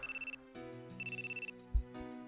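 A phone lets out repeated electronic beeping tones, a rapid pulsed ring in two bursts over a steady musical background, fairly loud and close with no talking.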